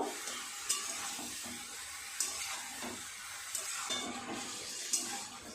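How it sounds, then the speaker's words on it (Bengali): Chopped banana flower being fried with spices in a pan for mochar ghonto, giving a steady close sizzle with periodic spoon scrapes and knocks as it is stirred. "সুন্দরভাবে মশলার সাথে মোচাগুলোকে কষিয়ে নেব"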